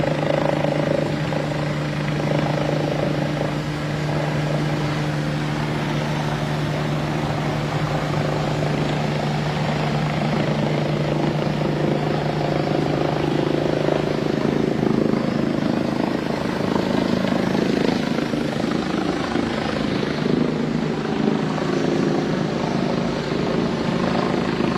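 Steady, droning rotor-and-engine roar of helicopters hangs overhead during riots in the UK, loud and continuous, with no voices.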